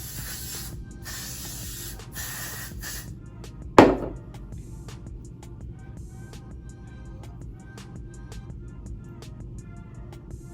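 A burst of Got to Be Glued hair spray hisses from a can during a ponytail styling session, a steady airy spray for a few seconds that stops abruptly, followed by quieter handling noises and small clicks.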